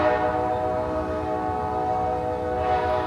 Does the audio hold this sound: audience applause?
no